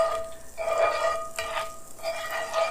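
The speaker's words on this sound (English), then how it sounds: "see this butter starting to sizzle like that?" Butter sizzles in a hot cast iron pan while an egg is being cooked, a soft, close crackle and hiss that swells and fades in gentle waves.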